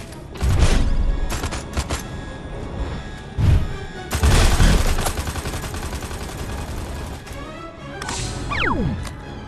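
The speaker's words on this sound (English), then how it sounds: "Chain reaction in the reactor! The reactors overreacting! Get out of there, Crypto! Before the whole cavern explodes!" Explosions in a reactor cavern in the video game Destroy All Humans! 2 Reprobed, loud booming blasts and crackling bursts in irregular succession, ending with a whooshing sweep.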